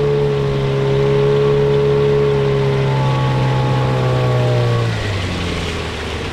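A Gladiator 9.8 outboard motor drives a small boat up to planing, a loud steady engine whine holding pitch, then easing down near the end over water rush.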